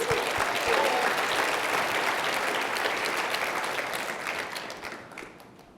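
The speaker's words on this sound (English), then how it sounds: "Let's give Glenn a round of applause, guys." Audience applause for Glenn Sanford at a Vancouver Masterminds business event, a dense wash of clapping from a full room that stays strong, then fades out toward the end.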